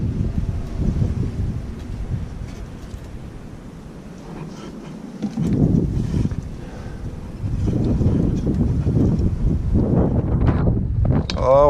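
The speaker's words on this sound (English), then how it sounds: "why is it gotta be so windy?" Strong gusts buffet the microphone outdoors during an annual tune-up of a Kubota BX1860 tractor, producing a low, rumbling roar that swells and eases in waves; a faint voice briefly comes through near the end.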